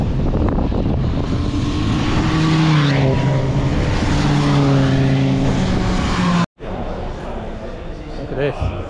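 Ford-based City Car Cup race car lapping a club circuit at a BRSCC race day, loud sustained engine roar rising and falling through gear changes, heard from inside the car with a brief dropout near the end.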